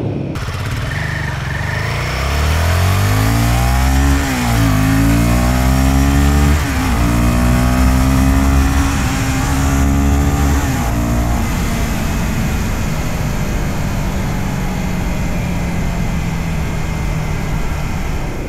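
A Royal Enfield Guerrilla 450 roadster's engine pulls hard under heavy throttle, loud and close, its rising tone climbing through several gear changes before settling into a steady roar with wind noise.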